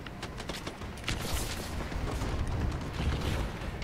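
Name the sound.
bombing run explosions overhead in the video game Call of Duty Advanced Warfare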